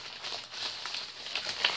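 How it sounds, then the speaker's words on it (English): A small, narrow plastic bag crinkles close by in a steady, dry crackle with sharper crisp snaps scattered through it. "it came in a kind of small, narrow plastic bag"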